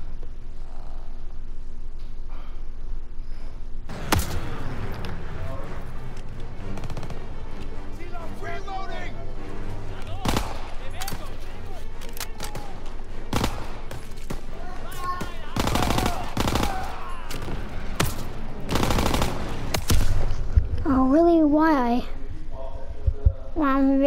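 Bursts of AK rifle fire in a Call of Duty match, several loud sharp volleys spread across the scene over game ambience and music, with a voice talking during parts of it.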